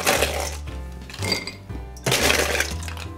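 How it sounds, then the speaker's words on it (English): Ice cubes clinking and clattering into a cocktail glass holding vodka and ouzo for a martini, a few bright rattling bursts close up. "So what we're gonna do is pop some ice in here."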